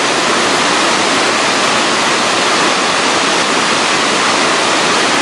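Shirahige Falls in Biei pours into the Blue River, a loud, continuous rush of falling water close by, with no voices.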